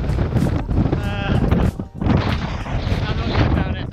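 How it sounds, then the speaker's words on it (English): Very strong wind, around 50 mph, roars and buffets the microphone during outdoor sledging in snowy weather, loud and gusty throughout with brief lulls and muffled voices underneath. "It's very, very windy."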